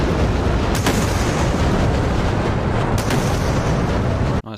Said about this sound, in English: Nice big Swedish sonic booms there.